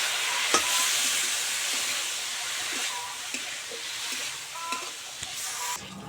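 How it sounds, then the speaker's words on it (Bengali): Spices frying in a pan as they are stirred for a dried-fish and green-tomato curry: a steady broadband sizzle with scattered light scrapes and taps of the spoon, fairly close, with no talking. "এইভাবে 1 মিনিট ধরে খুব ভালো করে সমস্ত মশলাগুলো কষে নিতে হবে।"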